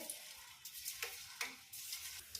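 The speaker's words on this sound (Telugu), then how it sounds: "ఇక్కడ దొండకాయ పకోడీ ఉడుకుతుంది" Ivy gourd pakoda frying in oil, a quiet, close sizzle with soft crackling bursts rising and falling over a couple of seconds, no voices.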